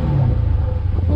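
A Dodge Challenger Scat Pack engine revs briefly up close, a deep, steady low rumble that stays strong and even for just over a second.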